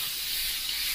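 An airbrush hisses steadily and loudly while paint back-bubbles with the nozzle pinched shut, a continuous airy rush running throughout.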